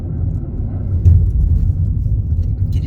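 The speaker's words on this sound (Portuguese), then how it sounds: "Tem um carro querendo passar aqui" A car rolls past on a road, a steady close engine rumble that swells slightly midway and holds as it goes by, with no talk over it.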